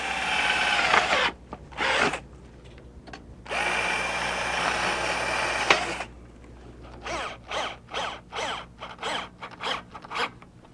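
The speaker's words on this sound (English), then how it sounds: "we can go ahead and take our drill and again drill all our pilot holes." A power drill bores pilot holes through aluminum rub rail on a boat, in a long bursts followed by a run of short rapid pulses, close and loud with no talking.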